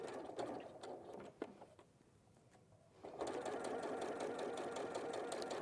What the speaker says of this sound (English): we're just sewing these on the sides at a 1/4 inch seam allowance.